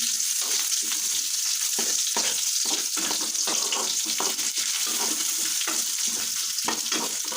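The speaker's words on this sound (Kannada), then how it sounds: "ಉಳ್ಳಾಗಡ್ಡಿ ಕೆಂಪಗಾಗವ್ರಿಗೂ ಬರ್ಕೊತೈತಿ" Long-cut onions frying in oil, a loud, dense, unbroken sizzle close up with faint stirring crackles throughout.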